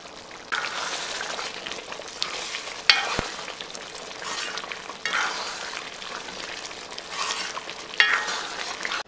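Liver roast fries with coconut oil and curry leaves in a pan, a close, loud, steady sizzle that swells in waves as it is stirred, with occasional sharp crackles and scraping.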